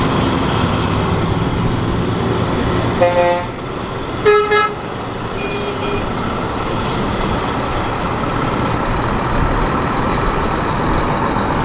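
Classic Minerva truck pulling away from a truck stop gathering, with two short horn toots around the three- and four-second marks over a steady engine rumble and outdoor background noise.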